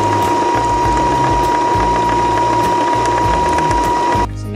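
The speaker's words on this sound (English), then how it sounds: "So I'm gonna redo a new bobbin with my black thread here." Sewing machine winding a new bobbin with black thread, a loud, continuous mechanical whir and rattle running nearly the whole time, up close, stopping just before the end.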